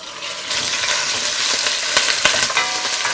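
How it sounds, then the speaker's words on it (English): Ground beef and sweet Italian sausage sizzle loudly in hot oil in a pan, a steady broadband crackle with brief sharper pops and spoon scrapes as the meat is broken up; no talking. "Our oil is hot. We're going to add our ground beef."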